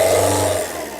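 A single-owner Tata Indica car's engine revs up steadily and close by, holding a loud drone before easing off slightly toward the end, with no talk over it.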